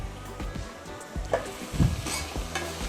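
Rice with carrots and beans being stirred in a pan, a close sizzle with repeated scraping strokes of a spoon against the pan, no talk.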